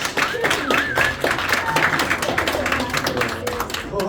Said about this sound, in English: All right, give them a big round of applause.